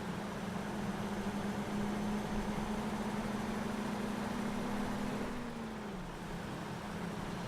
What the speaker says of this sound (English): So the more I drive this truck, the less I'm convinced that the engine noise is default.